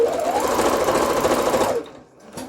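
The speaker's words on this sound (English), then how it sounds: "let's try a straight stitch on very high tension" A sewing machine runs a straight stitch with the top thread tension set very high, a loud, close, rapid mechanical whir that stops abruptly partway through, followed by a faint click.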